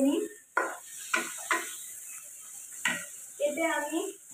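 Boiled moong dal and a fish head get stirred in a frying pan, with several sharp clanks and scrapes of a utensil against the pan, spaced irregularly over a low sizzle, and brief speech at the start and end.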